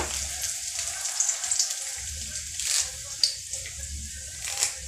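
Dense crackling and spitting of mustard seeds popping in hot oil while tempering for peanut chutney, steady and close, with a few sharper pops standing out.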